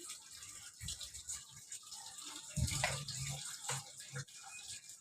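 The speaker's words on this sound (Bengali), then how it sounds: "ডালের জল রাখবো জলটা দিয়ে দিলাম" Water is poured into cooking dal, a close splashing gush that swells midway through and then trails off into softer sloshing and small clinks.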